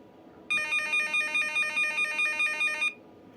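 A pulse induction metal detector gives a steady electronic beeping tone with a bright, pulsing double-pitched warble, holding for about two and a half seconds, then stopping abruptly, with no talk.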